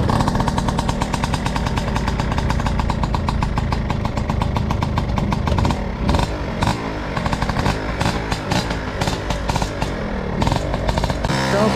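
Piaggio Ciao moped engine running loud and close, a rapid buzzing two-stroke putter that holds steady, then revs in uneven bursts toward the end.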